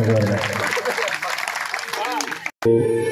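A crowd claps at a Shiv Puran katha gathering, the applause a fairly loud wash of hand claps mixed with voices and music, cutting off briefly before resuming.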